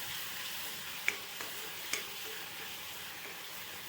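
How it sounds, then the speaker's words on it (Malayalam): Pulao mixture with tamarind and tomato sauce stirred in a pan, a faint steady sizzle with a few small taps of the spoon against the pot. "കുറച്ച് നമ്മൾ പുളി ഇട്ടിട്ടുണ്ട്, കുറച്ച് ടൊമാറ്റോ സോസ്. എന്നിട്ട് നന്നായിട്ടൊന്ന് മിക്സ് ചെയ്തെടുക്കാം"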